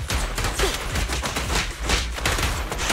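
Sustained gunfire rattles through a Zenless Zone Zero cutscene, a dense, continuous fusillade of rapid shots with thumping impacts, loud and close throughout.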